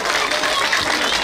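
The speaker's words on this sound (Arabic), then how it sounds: "واو، تصفيقة أخرى، تصفيقة أخرى." Audience applause at the closing ceremony of a children's entertainment village festival: a dense, continuous burst of clapping, close and fairly loud, lasting just over a second.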